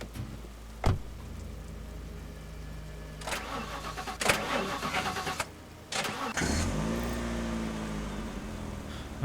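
Car engine cranking and starting in the video game The Last Stand: Aftermath, with a couple of sharp clunks, a stuttering crank, then a steady mid-pitched idle rumble with rain-like hiss underneath; no speech.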